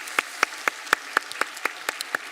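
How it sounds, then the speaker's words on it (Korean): In a church during a Wednesday worship service, steady rhythmic claps ring out about four per second, crisp and fairly close, with a light bed of quieter clapping beneath. "마지막으로 한 번만 더 뜨겁게 박수 한번 하도록"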